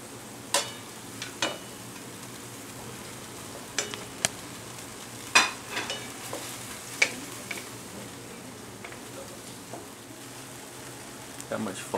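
Squid goes back into a hot wok for stir-frying, giving a soft sizzle broken by scattered clanks and scrapes of a utensil against the pan, fairly quiet with no talk.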